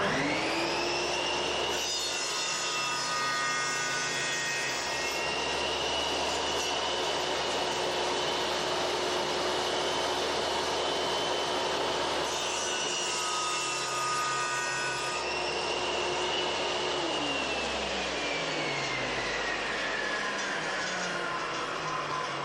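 A Triton Workcentre saw makes a mitre cut through wood: a loud, steady motor whine with a sustained tonal hum through the cut, winding down near the end, with no talking.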